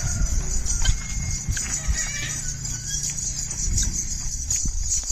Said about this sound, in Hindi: आप देख रहे हो इसका नाच जमुना घोड़ी का